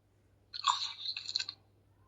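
A dinosaur in a video game chews and crunches in one short burst of wet, gnashing bites lasting about a second, close and clear over a low hum.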